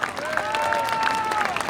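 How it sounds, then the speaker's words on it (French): Applause from a crowd at an outdoor Paris rally for hostages held by Hamas, greeting singer Enrico Macias; steady clapping continues at moderate level behind a sustained tone. "qu'on peut applaudir très très fort"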